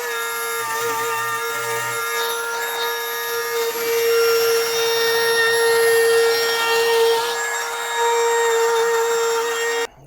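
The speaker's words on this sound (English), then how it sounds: "Now I'm just going to trim around some places where it didn't come out the way I wanted it" Power tool buzzing steadily at close range while trimming around a cut-out door opening on a DIY teardrop camper trailer, one continuous loud run of about ten seconds that cuts off abruptly at the end.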